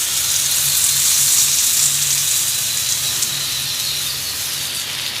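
Three large tomatoes hitting hot oil with frying onions and cashews for restaurant-style butter chicken give a loud, steady sizzle and hiss that stays dense throughout, with no voices.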